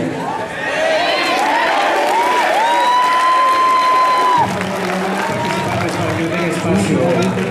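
Applause and cheering from an audience at the Expo Comic Ichiban 2011 men's cosplay contest, a dense crowd roar with high shrill whoops near the start, the tone shifting partway through.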